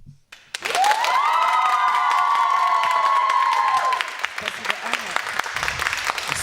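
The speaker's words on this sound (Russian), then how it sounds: "Аплодисменты." Audience at the Samara regional "Sinyaya Ptitsa" contest claps and cheers after a poem recitation, with a loud sustained tone over the clapping at first, then the applause continuing on its own.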